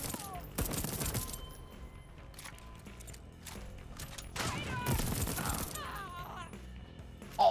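Bursts of gunfire in the video game Deathloop, several loud close volleys of shots separated by quieter gaps filled with game sounds and faint effects.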